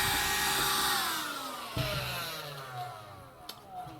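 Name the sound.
portable vacuum cleaner running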